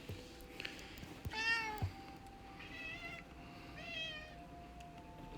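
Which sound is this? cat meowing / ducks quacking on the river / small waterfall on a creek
cat meowing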